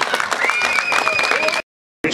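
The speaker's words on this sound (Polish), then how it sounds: "Raz jeszcze wielkie brawa!" Applause from the crowd at an American football game in Poland, Owls Bielawa against Zagan Shadows, a dense patter of clapping under a loud announcer's voice, cut briefly to silence near the end.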